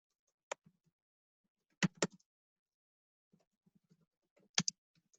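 Sparse computer keyboard keystrokes, a lone tap, then a quick double tap and later a short flurry of clicks, close and quiet against a silent room.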